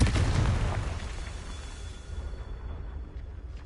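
A Confringo fire-blast spell exploding in the video game Hogwarts Legacy, a loud booming burst at the start that rumbles and fades into a long, dwindling tail.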